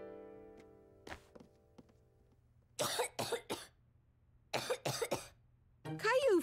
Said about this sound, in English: Caillou felt hot and was coughing